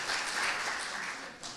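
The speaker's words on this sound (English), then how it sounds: "so now I'll clap for you" An audience gathered for a multiple sclerosis education program claps briefly. A soft, quick patter of many hands swells, fades, then picks up again for a moment, fairly faint and without talk.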